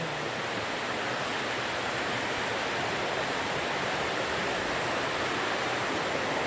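Water flowing along a trekking path in a Konkan village near Dapoli makes a constant broadband rush, steady and fairly close, unbroken for several seconds with no talk.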